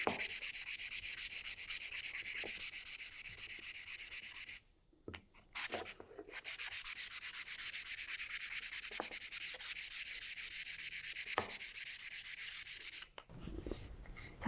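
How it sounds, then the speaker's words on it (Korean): Sandpaper rubs steadily along the grain of a wooden footrest panel in continuous close, dry strokes, with a short pause midway and another near the end. "목재 그 줄무늬 방향, 결 방향 고려하셔서 같이 사포해 보실게요."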